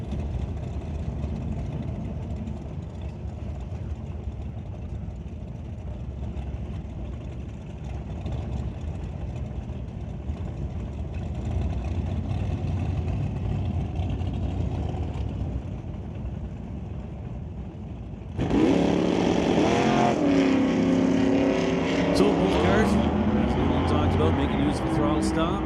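1978 Malibu and 1972 Plymouth drag racing at a Super Street index event: a steady distant engine drone under continuous commentary, then a sudden louder, brighter roar of engines near the end.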